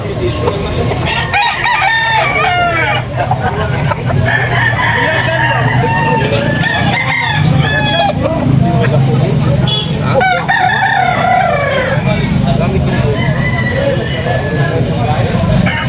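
Roosters crowing repeatedly at a morning chicken market in Carbon, Cebu, several birds overlapping near and far amid clucking and background chatter.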